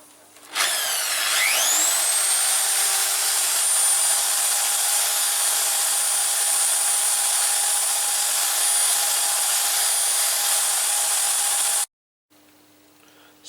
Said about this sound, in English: use a more sandpaper, rotating sandpaper grinder instead